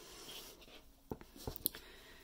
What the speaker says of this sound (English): I'll just trim that with my scissors